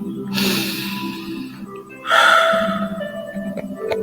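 Two deep, slow breaths during a guided meditation, a long inhale followed by a second, louder airy breath, close up and without talk.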